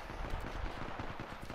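Rapid gunfire crackles in a video game, a quick run of closely spaced shots at moderate level lasting barely two seconds.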